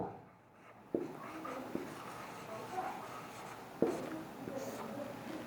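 A pen or chalk scratches out the left side of a math equation, with soft continuous strokes broken by a couple of sharp taps, close and fairly quiet.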